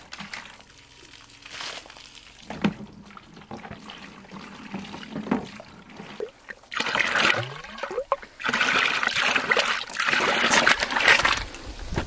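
Water runs from an open tap on a goat house terrace, trickling and splashing through a pipe, with quieter dribbling early on that builds to a louder, steady gush of running water.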